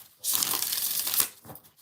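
Tarot cards get one quick shuffle during a live reading, a single second-long papery riffling burst, fairly soft and close, followed by a faint brief rustle.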